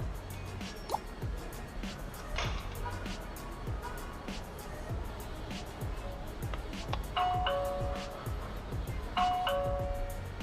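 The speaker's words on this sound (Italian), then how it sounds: "quando Stefania ha suonato il campanello" A smart video doorbell's chime plays back from a saved recording, two short electronic ding-dong tones near the end over a faint, noisy background with quiet talking.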